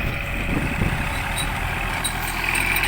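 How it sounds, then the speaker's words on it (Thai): A Kubota 36 hp tractor towing a corn seed planter in a rice field, its engine running with a loud, steady, close diesel drone throughout. "ใช้ รถไถ คูปต้า36 แรงนะครับ เป็น รถลากจูง"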